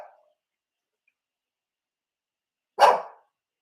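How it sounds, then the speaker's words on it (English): A dog gives one loud, sharp bark close by after a long silence, with a faint trace of a sound at the very start. "Are you barking at me?"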